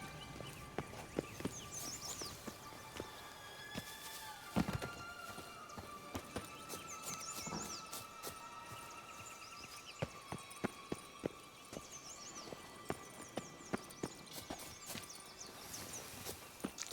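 Horse hooves clip-clop along in The Witcher 3, a steady run of sharp, irregular thuds at moderate distance over a busy game soundscape with faint bird calls.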